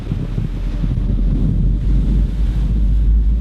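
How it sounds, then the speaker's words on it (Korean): Waves breaking on a quiet off-season beach in Yeongdeok, North Gyeongsang, a steady roaring wash of surf mixed with heavy wind buffeting the microphone, with no voices. "여름 한철 피서객들로 넘실댔던 파도는 이제 저 혼자 하얗게 부서지고 있는데요"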